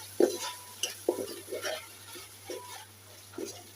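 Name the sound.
mixing spices into vegetable biryani in a pan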